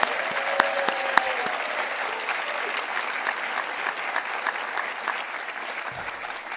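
An audience at a university state-of-the-university address gives a steady round of applause, a broad even patter of many hands heard from a distance, with a couple of sharp nearby claps early on.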